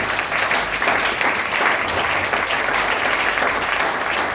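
A church congregation applauds the Lord with dense, sustained clapping from many hands filling the room at a steady loud level for several seconds.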